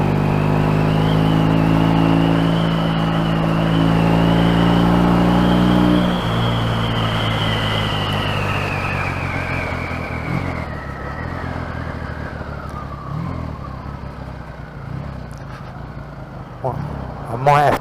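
A Triumph T140E motorcycle engine runs loud and close, holding a steady tone before its revs slowly fall away toward idle, with a few knocks and clunks near the end.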